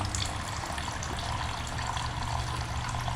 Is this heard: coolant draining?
yes